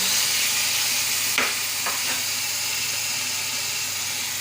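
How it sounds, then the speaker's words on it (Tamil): Tomatoes are sautéed with onion and green chilies in a pan, giving a steady, loud sizzling hiss throughout with a few brief stirring scrapes near the start. "இதுக்கப்புறம் நறுக்கி வச்சுருந்த தக்காளியை சேர்த்துக்கோங்க."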